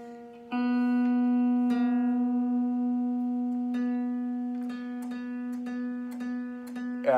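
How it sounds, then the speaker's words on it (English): A single guitar string rings with a steady sustained pitch that drifts slightly as the tuning peg is turned to match another string, with a few soft picked re-attacks later, played alone and close. "I'm going to play it and twist that tuning peg at the same time until the pitches match"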